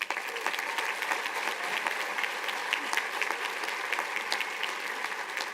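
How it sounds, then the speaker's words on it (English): Sustained applause from a sizeable crowd at a graduation commencement ceremony, steady dense clapping that holds without a break. "Can we give them an applause?"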